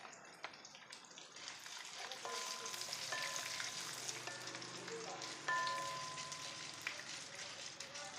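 Lentils and dried red chillies frying in oil in a pan for tomato chutney, a steady soft sizzle with faint crackles and a brief louder hiss midway, no talking.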